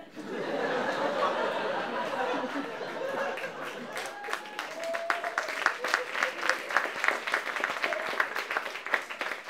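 Stand-up comedy crowd laughing and chuckling, then breaking into growing applause with sharp claps and scattered cheers, dense and moderately loud.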